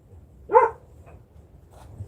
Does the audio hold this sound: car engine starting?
no